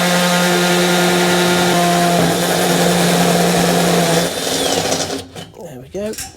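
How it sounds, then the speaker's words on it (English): A step drill grinds through galvanised metal with a loud, steady whine and harmonic squeal for about four seconds, then slows and breaks through, leaving uneven wavering tones as it winds down. "So I've got my step drill."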